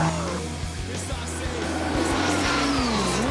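A Ford Torino race car with nearly 500 horsepower at the back wheels, its engine droning steadily and rising in pitch on a dried-out track, loud and sustained with no talking.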